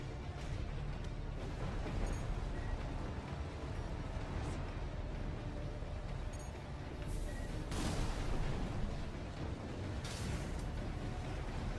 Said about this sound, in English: Use your mobility in the air to get clear of explosions on the ground.